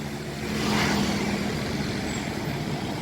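A Jaya Putra bus pulls out of Tirtonadi bus terminal in Solo on a rainy day, its engine a steady low drone that swells briefly then holds, with faint rain hiss and terminal ambience around it.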